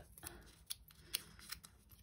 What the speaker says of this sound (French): Je froisse.